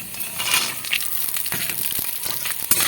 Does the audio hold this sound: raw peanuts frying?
yes